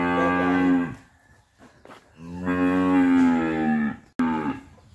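A cow at a cattle sale moos loudly and close by, giving two long drawn-out calls and then a shorter third one, with no talk over them.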